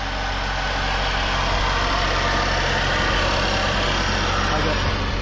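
A 2011 Saab 9-5 engine idles steadily after an intercooler replacement, a constant loud rumble with a dense hum that holds without change, heard close by.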